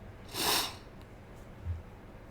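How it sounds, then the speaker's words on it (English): A single short, breathy cough bursts out close by, followed by a faint low thump in an otherwise quiet room. "I'm sorry, again, I'm going to have to cough one more time."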